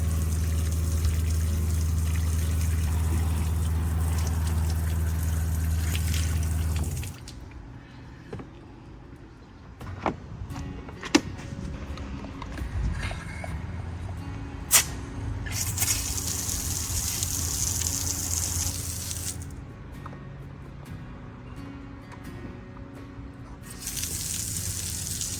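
Water gushes loudly through the plumbing of a 2022 Rockwood 2509S travel trailer during de-winterizing, a steady rush for about seven seconds before it falls to a quieter trickle broken by scattered clicks and knocks.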